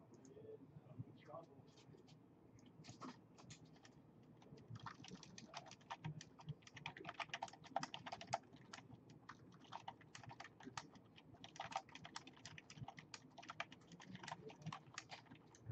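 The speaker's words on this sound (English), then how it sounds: "Right, typing." Rapid keyboard typing, close and fairly quiet, clatters in dense irregular bursts throughout, with occasional talk in the background.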